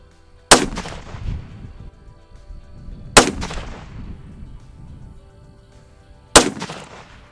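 A 6.5 PRC rifle loaded with Hornady Precision Hunter ammunition fires three loud, sharp shots at a target range, each crack followed by a decaying echo, spaced about three seconds apart with no talking.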